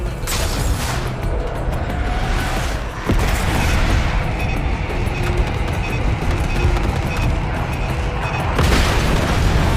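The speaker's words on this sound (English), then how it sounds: "Call the airstrike!" Airstrike bombs pound a desert area in Call of Duty Black Ops 6, a heavy, continuous rumbling roar of blasts punctuated by sharper impacts, loud and sustained.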